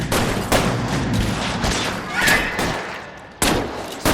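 Gunfire during a shootout in L.A. Noire, with sharp, loud shots cracking out irregularly over a few seconds, several close bursts separated by short gaps.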